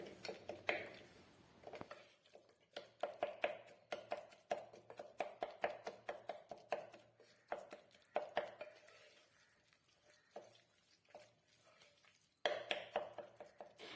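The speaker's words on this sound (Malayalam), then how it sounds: "ഇനി ഇതൊരു തവി വെച്ചിട്ട് ഉടച്ച് എടുക്കാം" A metal ladle mashing cooked potato masala for masala dosa in a pan, repeated soft knocks and scraping taps in an uneven rhythm, close and fairly quiet, with no talk.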